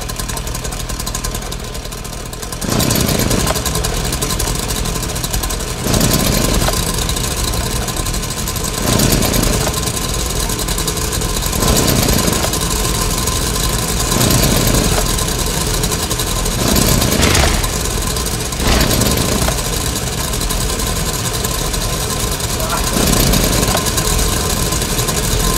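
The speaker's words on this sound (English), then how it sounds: "So there you have it. Chainsaws with no gravity." Several chainsaws with no gravity sputter and idle together, making a loud, continuous engine drone that swells in regular pulses every few seconds after a quieter opening.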